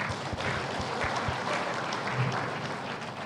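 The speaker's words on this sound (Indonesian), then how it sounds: "Kita tepuk tangan dulu." Seminar audience gives a steady round of clapping at moderate level, continuous and fairly even from start to finish with no talk over it.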